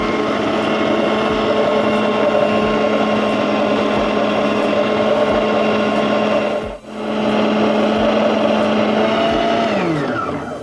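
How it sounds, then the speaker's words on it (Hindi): An electric citrus juicer squeezes lemon halves, running at fairly high speed. Its loud, steady motor hum is broken once by a brief dip and then winds down at the end, with no talking. "मशीन की स्पीड थोड़ी तेज़ है इसलिए दोनों छिलके जो है मेरे हाथ से छूट गए हैं।"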